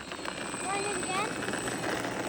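A large radio-controlled model airplane drones steadily overhead with a whining propeller tone, heard under people talking outdoors.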